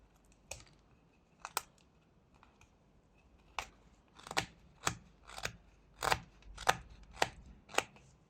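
Carving knife pressing stop cuts into a small block of wood for a fox face, a series of about eleven sharp, crisp cutting snaps, sparse at first then coming in a steadier rhythm, close up with no talking.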